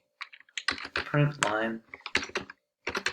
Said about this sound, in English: having trouble typing tonight